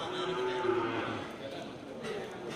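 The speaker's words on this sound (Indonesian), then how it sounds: "sapi jantan dari jenis sapi Bless" A Simmental crossbreed bull, mixed with Bali cattle, gives a low sustained moo that fades after about a second, set against steady farmyard background noise.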